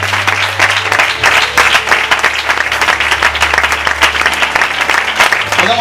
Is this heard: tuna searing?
no